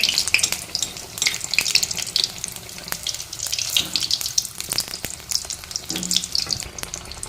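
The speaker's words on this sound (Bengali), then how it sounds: "এটাকে কিন্তু লাল লাল করে ভাজবো লাল লাল ভাজলেও মুচমুচে হবে" Eggplant fritters (beguni) deep-frying in hot oil, a steady loud crackling sizzle with a bright hiss throughout, punctuated by sharper pops and bubbling bursts, heard close and alone without voices.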